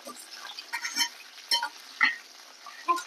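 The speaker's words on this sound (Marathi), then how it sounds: "छान अशी वांगी आपली आता मस्त तेलावर आता परतायला लागली" Brinjal pieces are turned over in oil in a pan after being covered to cook, giving a soft, faint sizzle with a few distinct clinks and scrapes of a spatula at intervals, no talking.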